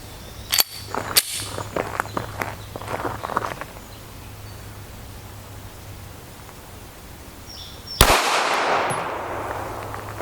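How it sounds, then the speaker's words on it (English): A gunshot fired at an armor insert packed in a bag with a laptop and fabric, one sharp loud crack late in the clip after earlier clatter and handling noises, then a fading rumble. "So here was our shot right where we wanted it to be."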